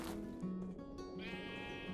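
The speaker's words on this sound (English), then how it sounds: "Hey, sheep, come here." Sheep bleating in a video game, several drawn-out wavering calls in quick succession, clear and close against a faint backdrop of soft tones.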